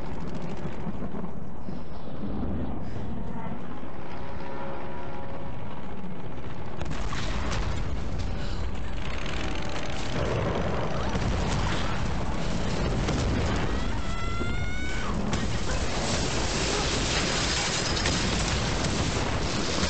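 Thunder from a lightning strike on a plane in the 2013 Tomb Raider video game, a loud sustained rumble with cracking bursts that swells midway and rolls on for the whole stretch.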